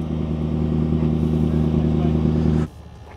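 A McLaren P1 GTR, a Le Mans-style race car, idles with a steady, loud, close mechanical drone that holds evenly for a few seconds and then cuts off abruptly.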